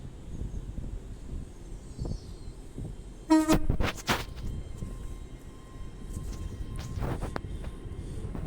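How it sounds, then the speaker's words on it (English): A train horn sounding at Doncaster station on the East Coast Main Line, a short loud two-tone blast over outdoor station ambience and wind, with a fainter horn note following later. "I can hear a horn"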